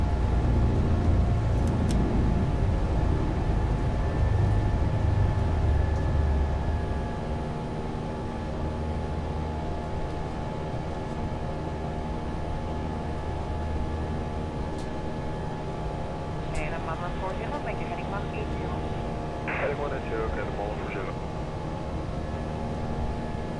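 An airplane climbs out after takeoff from Valdez, Alaska, its engines a loud, steady drone heard close from inside the cabin, easing slightly after the first few seconds and continuing without pause.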